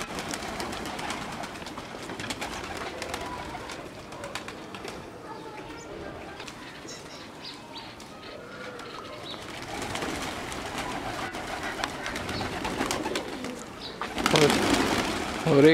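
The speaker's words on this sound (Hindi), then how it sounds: "यहाँ पे जो है कबूतर पाले हुए हमने और छोटे मकदार में नहीं, बहुत बड़े मकदार में पाले हुए हैं।" Pigeons coo softly in a low, rolling murmur, with fluttering and rustling around them and a louder flurry near the end.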